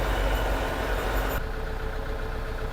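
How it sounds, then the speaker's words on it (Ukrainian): A tractor engine idles steadily at close range, its idle speed set slightly higher, with a continuous loud low rumble and a brief shift in tone partway through. "трошки додавив холості оберти трактору"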